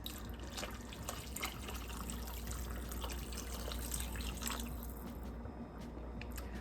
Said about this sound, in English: I've got another 4 cups of water, but I may not add it all just yet.